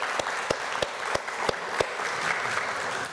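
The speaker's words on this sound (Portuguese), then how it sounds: "Por favor, uma salva de palmas para essas empresas." Audience applause at a Brazilian journalism forum, a short burst of sharp, evenly spaced claps standing out over a steady wash of crowd clapping, close and fairly loud.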